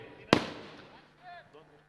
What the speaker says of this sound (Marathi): त्याच्यामुळे मात्र फटाक्यांची आतिषबाजी झालेली आहे.